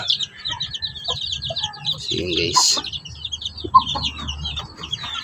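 Chicks peep in rapid high chirps near a mother hen that clucks low and softly, with a voice speaking briefly over the brooding birds.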